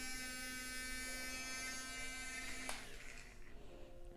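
A small battery-powered electric whisk milk frother, running on two AA batteries, gives a steady high motor whine alone at close range, then its pitch drops and it winds down near the end.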